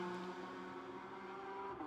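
A GT4 race car passing during qualifying at Jeddah, its engine a steady droning tone heard faintly from a distance across the short stretch.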